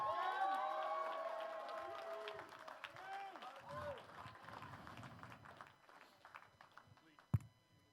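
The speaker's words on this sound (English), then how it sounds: "big round of applause" Crowd at a USAPL Ohio Classic bench press and deadlift powerlifting meet applauding and cheering a gold medal winner, steady clapping that slowly thins out, with an announcer talking over it and one sharp bang near the end.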